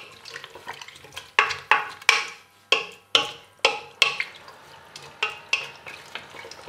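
Courgette gazpacho with cheese and water being stirred, giving a run of sharp, close scraping and sloshing strokes in an irregular rhythm with no talk.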